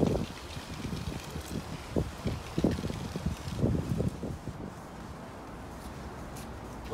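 Wind blowing outdoors in cold weather, gusting and buffeting against the microphone in uneven rumbling bursts, loudest in the first half and then easing to a softer steady rush.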